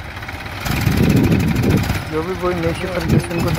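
A 2018 Massey Ferguson 1035 tractor, rated 39 hp, runs with a steady engine drone beneath loud, continuous male speech, and its throbbing tone becomes clearer in the second half.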